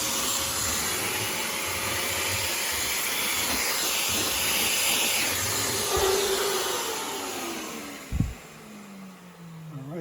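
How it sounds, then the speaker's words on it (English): A vacuum cleaner runs loudly and steadily inside the trunk of a Genesis G70, a constant hissing roar with a brief bump near the end before the motor starts to wind down. "we're gonna go ahead and empty the trunk and vacuum out the trunk"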